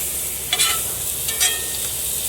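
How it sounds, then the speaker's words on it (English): Blackened walleye fillet flipped in a hot skillet, with a steady sizzle of frying and two brief scraping bursts of the turner against the pan. "and I'm going to do a quick flip."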